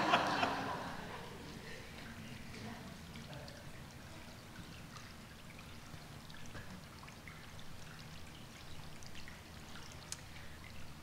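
Water from Silver Lake in Blackwell Forest poured out in a soft, steady trickle, quiet and close, with a brief louder splash at the start and light drips continuing throughout.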